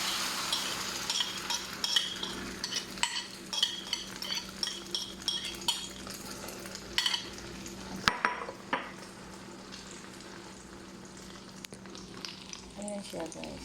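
Egg omelette frying in a heated pan, a steady soft sizzle running throughout with scattered clinks and scrapes of utensils and stirring, plus occasional faint voice in the background.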